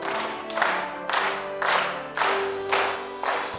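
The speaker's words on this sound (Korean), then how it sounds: "박수 치면서 찬양할까요?" Church congregation clapping along to worship singing: loud rhythmic claps land in regular bursts about every half second over the music, with a crowd presence behind them.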